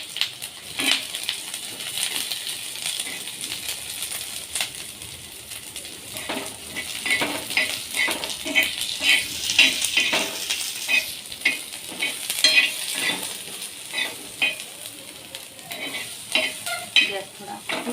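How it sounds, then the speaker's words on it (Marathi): Chopped onion fries in a little oil in a pan for a shev bhaji curry, giving a steady close sizzle broken by frequent scraping stirs and light clinks of a spoon against the pan. No one speaks. "मग आता कांदा भाजतो."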